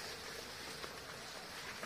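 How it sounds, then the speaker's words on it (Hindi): A waterfall stream on a rocky trail after rain, a steady soft rushing wash of water close by with no voices, heard alone. "अब हम लोग झरने हाँ झरने के पास आ गए हैं। इधर झरना क्रॉस करना पड़ता है"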